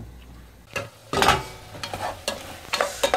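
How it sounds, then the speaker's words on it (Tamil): Prawns and drumstick pods sauté in a covered pan for a Tamil curry, giving a low sizzle broken by several sharp stirring scrapes and clatters that come in irregular bursts, close and moderately loud. "மூடி வதங்க விடுறேன்."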